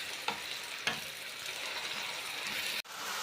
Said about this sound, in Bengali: তো আমি টমেটোগুলো ছেড়ে দিলাম। তো একটু নাড়াচাড়া দিয়ে নিই।